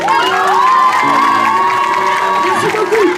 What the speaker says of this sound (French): Je peux les applaudir bien plus fort que ça.